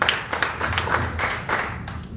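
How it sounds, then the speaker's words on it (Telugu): A church congregation at a Wednesday worship service claps together in a rhythmic, moderately loud burst of hand claps, with low background murmur beneath. "అందరూ చప్పట్లు కొట్టి దేవుని నామమున"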